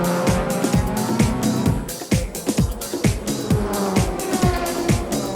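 JGTC race cars in the 2004 season, including the Motul Pitwork Z on slicks and the AU Supra, scream past with rising and falling engine notes, rapid gear changes and tire squeal, loud and close.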